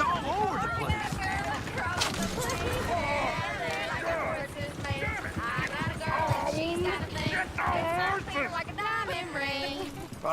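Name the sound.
horse hooves of a coach in video game Red Dead Redemption 2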